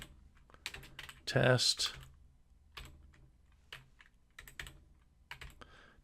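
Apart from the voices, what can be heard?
typing code on a computer keyboard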